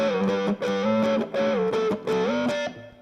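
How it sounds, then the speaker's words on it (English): Electric guitar chords played through distortion, a loud sustained buzzing tone repeated in several chord hits with brief gaps between them and a short fade at the end, with no voices. "So yeah, chords appear with distortion a lot."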